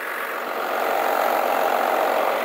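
A pre-smog 12-valve 5.9L Cummins diesel in a 4x4 truck runs steadily, a loud, continuous engine drone with a slight rise in intensity partway through and no voices.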